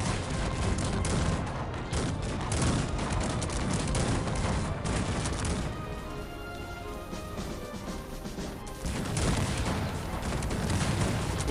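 Cannon fire from an arrow tower in the Cossacks 3 strategy game: dense rolling volleys of booming shots and crashing impacts, loud and continuous, easing slightly midway before swelling again.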